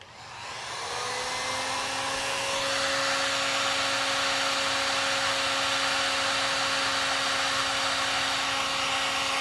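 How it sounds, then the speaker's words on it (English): A cheap single-setting Harbor Freight heat gun spins up and then blows hot air with a loud, steady rushing hiss. A constant high motor whine sits over the airflow, close and uninterrupted. "So let's get the heat gun."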